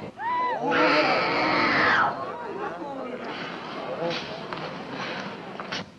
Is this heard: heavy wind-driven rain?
no